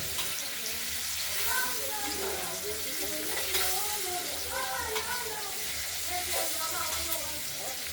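Paneer fries lightly in a pan with a steady, soft sizzle, and occasional faint scraping and clinks rise over the continuous hiss.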